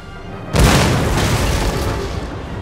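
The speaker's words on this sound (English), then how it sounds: "Keep up the pressure by firing your cannons at the enemy militia." Cannons fire at enemy militia in an Empire: Total War battle, one loud booming blast that rolls out into a long fading rumble, with no voices.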